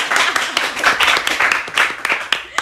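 A small audience at a student organisation talk show claps, giving fairly loud, brisk and irregular clapping from a group that lasts a few seconds and fades slightly at the end.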